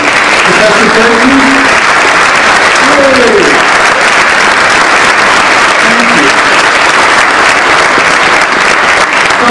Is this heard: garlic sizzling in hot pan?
no